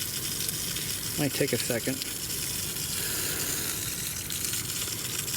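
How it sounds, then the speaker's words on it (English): A garden hose sprays water across the soft top of a 1994 Mazda Miata, a steady, fairly quiet hissing wash, while someone says a few words partway through. "Take a garden hose and then spray the top and look for where the water's coming out"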